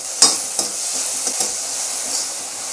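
Garlic paste and curry leaves sautéing in a hot pan for a Tamil-style vegetable poriyal, a steady bright sizzle with a few soft stirring scrapes and clicks of the spoon, close and continuous.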